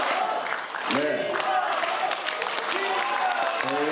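Audience in a packed 400-seat public hearing hall applauding, a dense wash of clapping mixed with crowd murmur and scattered shouts, steady and loud throughout.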